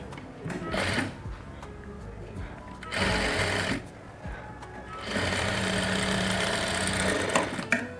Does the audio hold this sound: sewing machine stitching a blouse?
yes